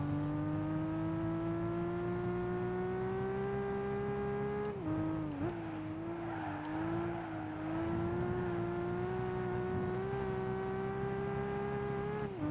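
A racing car engine in Gran Turismo 5 drones at a high, steady pitch with a BMW close by. The tone wavers through a brief dip and recovery midway, then holds a sustained whine.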